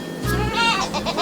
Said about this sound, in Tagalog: Let's find the kambing.